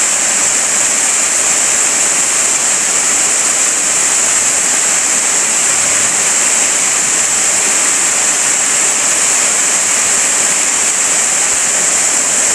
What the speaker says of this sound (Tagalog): andito na po kami sa Kitikiti Falls